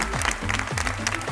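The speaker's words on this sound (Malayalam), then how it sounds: "ചേട്ടൻ ഒരു നല്ല കൈയടി കൊടുക്കാം, നല്ലൊരു കൈയടി" A studio audience at a family game show gives a short burst of close, brisk hand clapping.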